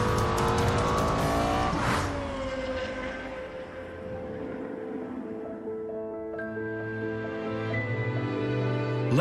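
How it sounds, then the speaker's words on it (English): A Lexus LFA V10 engine revs hard to a shrieking peak, then the pitch falls away as it settles and climbs again toward the end, loud and close with no voices. "Highest revving V10 engine in a production car."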